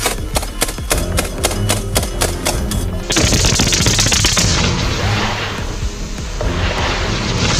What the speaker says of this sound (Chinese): 把汽油倒进铁桶里，用重机枪来一轮射击